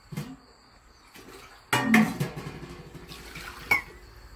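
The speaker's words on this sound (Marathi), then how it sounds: "मग याला मी चांगलं 2 पाण्याने धुवून घेते." Basmati rice being washed in water in a home kitchen, with intermittent splashes and swishes in short bursts and quiet gaps between them.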